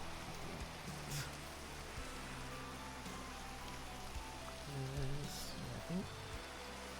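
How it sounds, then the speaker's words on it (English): Steady rain falls in a Minecraft world, a soft, even hiss of drops heard faintly and continuously while people talk over it. "Hey, look, it's raining."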